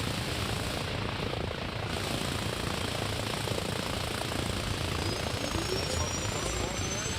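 In Arma Reforger, a helicopter's rotor chops loud and steady, a close, continuous rumbling thrum that carries on throughout.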